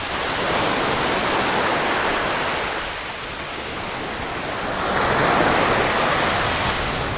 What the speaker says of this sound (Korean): 바닷소리 ASMR